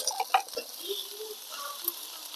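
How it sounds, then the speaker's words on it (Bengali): Chopped bottle gourd and potato go into mung dal that is frying lightly in a pan. A few soft bursts of sizzle and stirring clatter come at the start, then a quieter hiss and faint scraping. "এর জন্য একটু ভেজে নিয়ে তারপর আমি দিয়ে দিচ্ছি এই যে লাউ আর আলু কুচি।"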